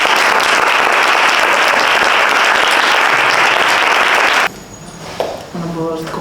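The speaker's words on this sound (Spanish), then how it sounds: "us vull pedir un aplaudiment per a elles" An audience at a transfeminism talk bursts into loud, dense applause that carries on for about four seconds, then stops abruptly, and someone begins speaking.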